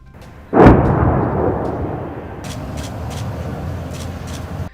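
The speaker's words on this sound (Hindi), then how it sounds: "रात को आसमान विस्फोटों से पटा दिखा" A single heavy boom bursts out, followed by a rolling rumble and scattered distant thuds, like explosions or artillery echoing across open space, from night-time Israeli strikes in Lebanon.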